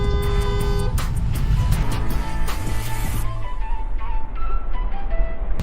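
A car horn honks repeatedly on a busy street, loud and near, with short toots over rumbling traffic and crowd noise.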